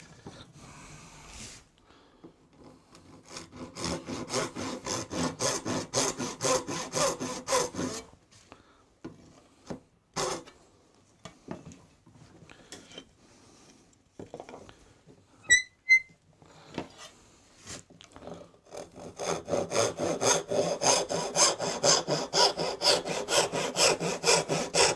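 A hand saw cuts through oak to free a tenon piece, with rhythmic rasping strokes in long close bursts separated by brief pauses and scattered knocks.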